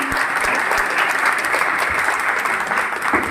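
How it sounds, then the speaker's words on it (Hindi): An assembly at a religious commemoration applauds loudly after a stage performance, a dense, continuous roar of many clapping hands at close range. "काफी सुंदर, जोरदार ताली बजनी चाहिए।"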